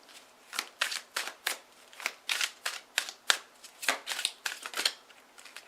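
Tarot cards shuffle close by in quick repeated riffling bursts, a soft papery flutter with brief pauses between clusters.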